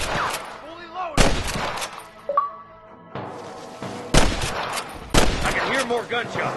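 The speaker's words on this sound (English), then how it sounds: "I can hear more gunshots." Gunfire in the Western video game Red Dead Redemption: several loud, sharp shots and short bursts crack out at intervals, with game voices and tonal effects heard between them.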